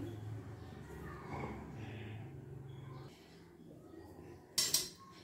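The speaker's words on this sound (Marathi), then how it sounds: "यावरती ठेवायची आपल्याला एक कढई" A metal kadhai set down on a gas stove gives a sharp, brief clatter near the end, following a stretch of quiet kitchen sounds with low voices.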